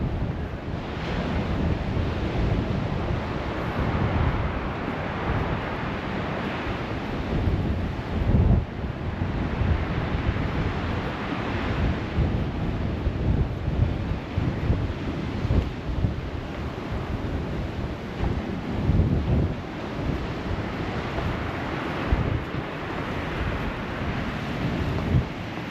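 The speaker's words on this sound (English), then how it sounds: "the sea, nice and rough" Rough sea surf pounds continuously along the shore at Lower Lees Coastal Park, Folkestone, on a windy day, with steady crashing waves and heavy wind buffeting the microphone throughout; no voices.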